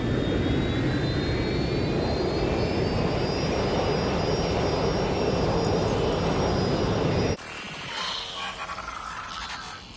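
Airplane in the open-world action game Watch Dogs: Legion, a loud continuous jet engine roar close by, with a rising whine above it, that cuts abruptly to a softer, muffled drone.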